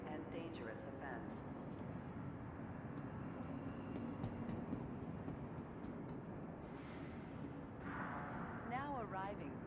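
A train in the Star Citizen video game arrives at a station, heard as a steady rumbling roll with metallic squeals and screeches near the end, under a recorded station announcement.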